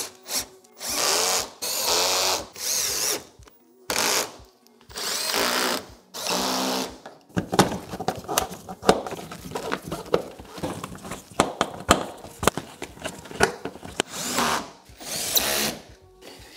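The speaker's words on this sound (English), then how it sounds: "And now I will put all the screws back." A power screwdriver driving screws back in during a parking sensor repair on a BMW X5, with several close whirring bursts separated by pauses, followed by clattering handling and tapping of parts.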